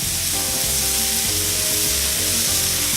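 Burger patties frying in a hot pan, a loud, steady broadband sizzle with faint stirring or shifting underneath, close and continuous with no talking.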